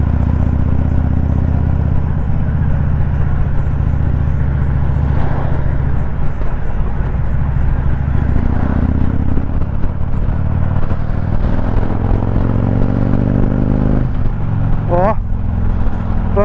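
Custom motorcycle on a road trip accelerating, its engine droning loud and steady with rising tones as revs climb, wind rushing throughout and a brief revving sweep near the end.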